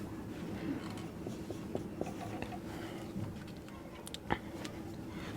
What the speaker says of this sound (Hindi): लिखते हैं पहले।